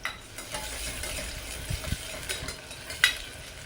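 Green chilli and onion go into hot oil for tondli bhaat, a soft continuous sizzle close by with a few spoon scrapes and a sharp clink, no voices.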